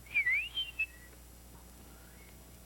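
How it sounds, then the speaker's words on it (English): A person gives a short, faint whistle of a few gliding, warbling notes within the first second, followed by near silence with a quiet background hum. "Now, whistle."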